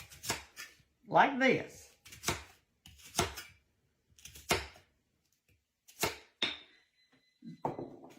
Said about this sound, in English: here's how I do peeling the sweet potatoes, and it is easy